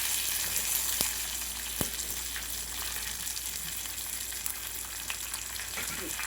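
Curry leaves and dried red chillies fry in hot oil for a Telugu ridge gourd and coriander chutney tempering, a close, steady sizzle with a few sharp crackles and pops.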